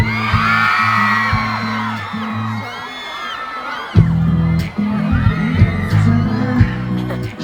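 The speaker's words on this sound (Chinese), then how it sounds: "尖叫声" A crowd screaming and whooping at a fireworks festival concert on Penghu, excited yells and shouts rising over loud music with a booming bass line.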